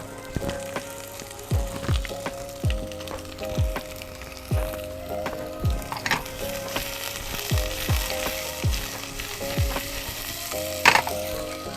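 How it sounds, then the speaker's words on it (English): Thinly sliced onion sweats in a pan for a green vegetable and salmon Thai curry, giving a steady close sizzle broken by regular scraping stirs roughly every second, with no talking. "The goal here is to sweat the onion until it's caramelized."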